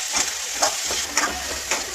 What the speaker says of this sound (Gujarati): હવે આપણે કોથમીર અને લીલી ડુંગળી ધોઈ છે એ એડ કરી દઈશું અને થોડી વાર હલાવીને